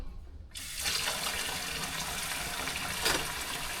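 Lukewarm water running from a kitchen tap while cooking, a steady hissing pour that starts abruptly after a moment of low background and continues evenly, fairly close.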